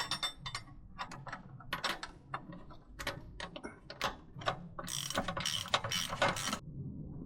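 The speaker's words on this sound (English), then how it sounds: "put the nut on this last pin here and screw it back together" A nut is spun and ratcheted onto a radius arm pin of a Land Rover Defender fitted with Terrafirma caster correction arms, giving close, crisp bursts of rapid ratchet clicks that grow denser toward the end.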